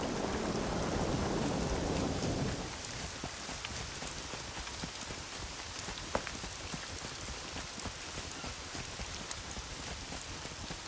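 Rain falling at night in the survival game SCUM, a loud heavy wash that drops after a couple of seconds to a steady patter of drops, with one sharp tap partway through.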